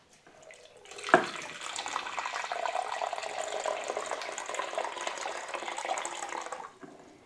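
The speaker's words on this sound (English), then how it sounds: "I'm going to dispose of this water." Water poured from a kettle into a sink makes a steady splashing rush, starting with a brief knock, holding for about six seconds at moderate loudness, then tapering off.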